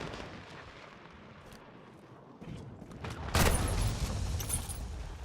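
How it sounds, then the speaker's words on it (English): A hostile cruise missile strike in Call of Duty, where a low rumbling battle din swells into a loud, sudden blast followed by a sustained roaring aftermath. "Hostile cruise missile incoming."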